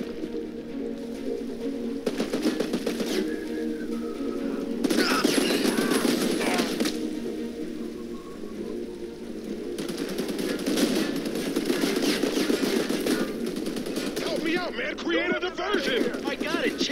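Automatic gunfire rattles in Army of Two in long continuous bursts of rapid shots, loud and close, with someone talking over parts of it and cooing, bird-like game sounds in the background.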